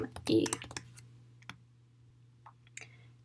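Computer keyboard typing while C++ code is entered, a quick cluster of loud clicks up front followed by a few sparse keystrokes, over a low steady hum.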